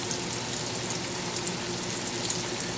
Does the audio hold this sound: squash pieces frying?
yes